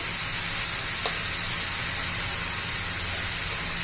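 Vegetables for veg biryani sauté in a pan with a steady, close, even sizzle of hiss and crackle that holds unbroken throughout.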